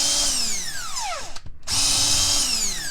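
An impact wrench spins off the cylinder head bolts of a GasGas EC300 two-stroke dirt bike engine on the bench: a loud whining burst that winds down, a brief pause, then another steady high-pitched run, close and alone.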